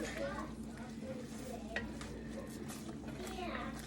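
Chicken pieces sizzle steadily in a hot cast iron pan, a continuous crackling hiss with faint utensil scrapes and a distant voice in the background.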